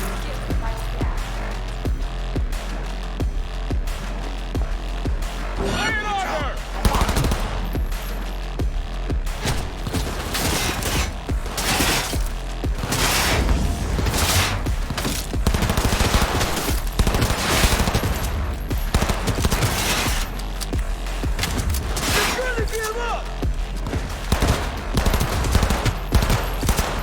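Heavy gunfire in the video game Cyberpunk 2077, loud sustained volleys and rapid machine-gun bursts packed densely together, with occasional booms and mechanical clatter mixed in and some voices underneath.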